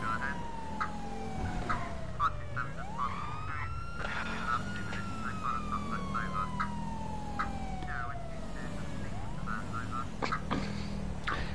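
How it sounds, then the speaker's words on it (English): A police car siren in GTA Online wails continuously, rising and falling in long sweeps over a steady engine drone, loud and close. "If you're going to run through red lights, we might as well have the siren on."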